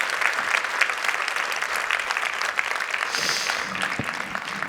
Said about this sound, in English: So please give them a kind round of applause